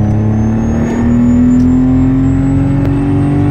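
A Nissan 300ZX Z32 engine drones steadily and loudly, its pitch climbing smoothly as it accelerates in second gear on a motorway, with constant road and cabin hum.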